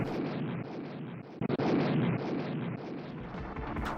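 Explosions of heads in the retro video game Ninja Warriors, heard as rumbling, booming blasts that roll on continuously with a sharp double burst in the middle.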